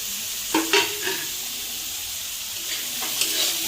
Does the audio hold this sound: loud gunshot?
no